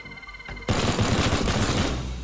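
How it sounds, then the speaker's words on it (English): A robot turret in the game Teardown opens fire with a sudden, loud, continuous rapid-fire burst that starts under a second in and keeps going to the end. "Okay, so that does shoot us."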